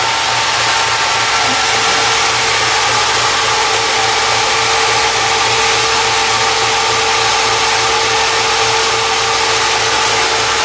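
A 1960 Triumph TR3 engine on Weber carburetors runs at a steady idle, a loud, continuous mechanical drone close by with no talking.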